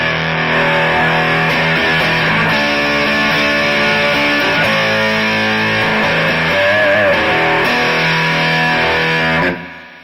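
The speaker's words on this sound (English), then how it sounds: "Get some pretty vicious distortion on that." Electric guitar played through a Peavey Classic combo amp with the channel volume cranked for heavy distortion, sustained gritty chords and bending notes ringing loud and close for about nine seconds before cutting off abruptly.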